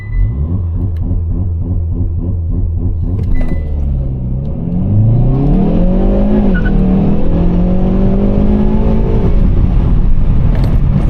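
Loud engine of a 2024 Hyundai i30 N hot hatch idling with a rhythmic burble, then revving hard as the car launches and accelerates at night, pitch climbing through the gears.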